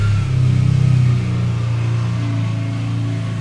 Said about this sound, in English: we're waiting until the whatever vehicle that was goes by, tractor or something